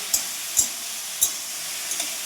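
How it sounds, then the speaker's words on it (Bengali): Potato, onion stalks and cauliflower frying in a pan give a constant hissing sizzle, broken by a few sharp scrapes and taps as the vegetables are stirred. "ফুলকপি সমস্ত সবজি দিয়ে একটা ভাজা করছি"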